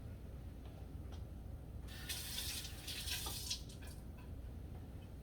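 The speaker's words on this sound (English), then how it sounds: "I need to wet my hands" A kitchen tap runs to wet hands while making arepas con queso, a soft low wash of water that briefly swells into a brighter, splashing rush midway before settling back down, with no voices.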